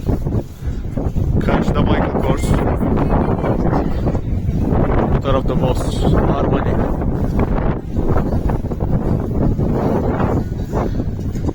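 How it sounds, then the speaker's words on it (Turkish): Steady wind buffeting the microphone throughout at an outdoor designer outlet in Neumünster, Germany, with a person talking over the low rumbling gusts. "Oo, rüzgar başladı."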